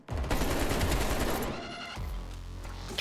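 Sustained rapid automatic fire from a Modern Warfare match rattles loud and close for about two seconds, then cuts to a lower rumbling tail with a faint shorter burst at the end.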